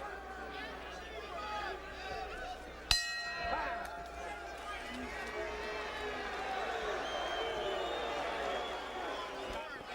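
A boxing arena crowd roars steadily at the end of round six of a bout between Warren Williams and Tim Littles, a sharp bell clang cutting in early and a commentator talking over the sustained cheering and babble.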